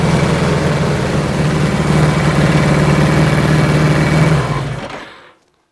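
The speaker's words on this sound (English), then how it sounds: "It runs, but it's smoky as this motor is going to have to come apart by the looks of it." Suzuki GS1000 motorcycle engine running rough and smoky, a loud steady idling drone close by that fades out and cuts off near the end.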